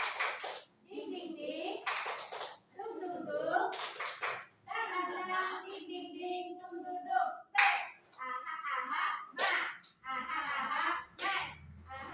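A group of children performs a tepuk semangat chant in a classroom, sharp rhythmic hand claps in quick bursts between sung syllables, with a teacher's and children's voices chanting along in a patterned beat.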